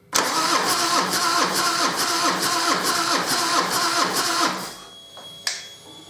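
A Harley Davidson Deuce motorcycle engine cranks on its starter at full throttle, a loud, steady rhythmic chugging for about four and a half seconds that then stops, followed by a short click.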